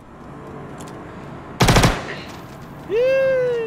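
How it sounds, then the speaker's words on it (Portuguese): A sharp rapid burst of gunfire in the video game Star Citizen cracks out, followed moments later by a rising electronic whine, typical of video game effects. "Tomou um tiro bem na cachola."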